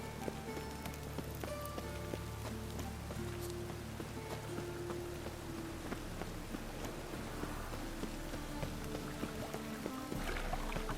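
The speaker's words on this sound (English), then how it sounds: "It looks like rain." Steady rain pattering on surfaces in The Witcher 3: Wild Hunt, a dense, even hiss of drops that runs unbroken and fairly close throughout, with no talking.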